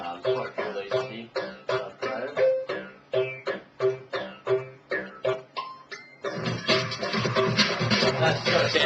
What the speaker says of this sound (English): Sound you hear there is actually the 505.